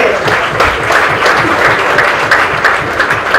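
Applause from the audience at a film music launch and first-look event, sustained steady clapping from a sizeable crowd that continues unbroken and fairly loud throughout.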